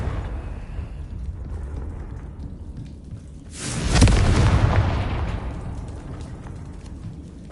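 A Confringo fire spell detonating in Hogwarts Legacy, a single deep booming blast that swells from a low rumbling background and slowly fades over a few seconds.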